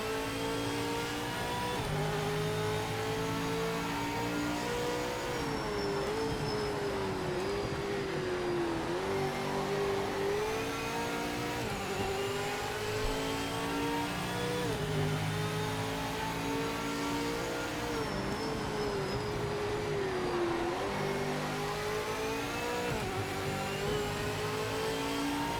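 Race cars in the Project Motor Racing video game at Bathurst drone steadily, engines revving with pitch dips as they brake and shift, a continuous loud mechanical roar with no talk.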